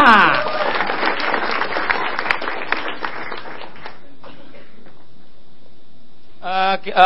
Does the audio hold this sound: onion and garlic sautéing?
no